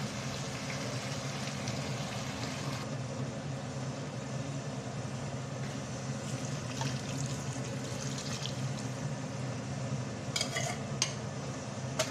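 Coconut milk goes into a pan of fish curry made with baim eel, giving a soft, steady simmering hiss with occasional stirring scrapes, quiet and close, with no voices.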